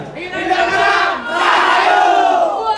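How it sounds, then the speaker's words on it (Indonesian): Cheering for the Nirangkara group at a Wonosobo performing arts showcase comes as a loud crowd roar of shouting voices that swells twice, with the yelling dominating over any clapping. "Mari kita beri tepuk tangan yang meriah untuk kelompok Nirangkara."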